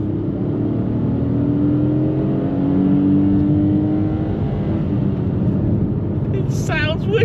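A 2024 Kia Picanto accelerates hard on the road in a drag race with a tipper truck, its small engine droning and rising in pitch from inside the cabin, with someone talking over it near the end.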